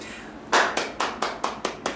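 One person claps seven times indoors at a Fukuoka chiropractic clinic, close and crisp, in a steady, slightly quickening rhythm after a brief quiet start, with no talk over it.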